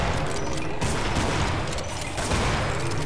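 Shotgun gunfire in the horror video game Afraid of Monsters, a dense, loud run of blasts and booms that fills the whole stretch with no talking over it.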